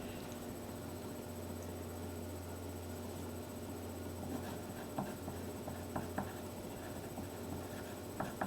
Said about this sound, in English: write down any last questions you have or anything else you know